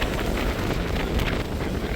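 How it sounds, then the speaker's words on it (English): Steady wind buffeting a phone microphone outdoors at a car show in Crown Point, a loud continuous rumbling roar with gusty flutter throughout and no talk. "The wind's blowing my phone."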